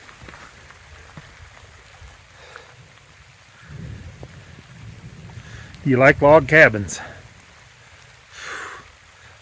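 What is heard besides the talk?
rain falling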